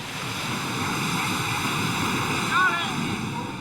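Sea surf rolls steadily on a beach at Cancun, a continuous broad wash of breaking waves with wind noise, and a brief faint squeak near the end.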